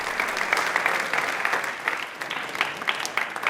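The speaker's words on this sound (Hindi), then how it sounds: "इसके लिए तालियां जोर से एक बार बजा दीजिए प्लीज।" An audience at a Rajasthan quiz programme breaks into steady clapping, a continuous round of applause with crisp individual claps that stays even throughout.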